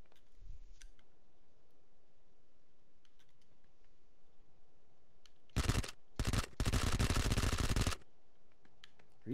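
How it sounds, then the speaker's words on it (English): Machine gun fire in a multiplayer shooter video game, two short loud bursts and then a longer sustained burst over quiet background noise, close and dominant. "I have a machine gun."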